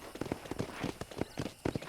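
Horse hooves clip-clop in Red Dead Redemption, a steady rhythmic run of close, distinct hoof strikes at moderate loudness with faint background ambience.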